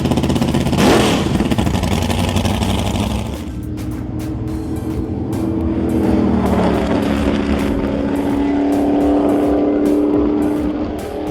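A McLaren Can-Am race car is offloaded at Canadian Tire Motorsport Park, its engine running loud and close with a throaty, continuous rumble and shifting revs.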